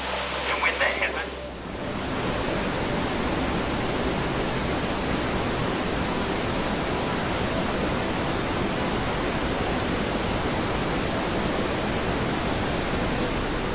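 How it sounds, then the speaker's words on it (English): Stirling Falls in Milford Sound, New Zealand, thundering into the fjord, heard close up as a dense, constant, full roar of falling water that swells in after a brief quieter opening. "Our boat hooked its bow right at the base of the roaring Stirling Falls for our viewing pleasure."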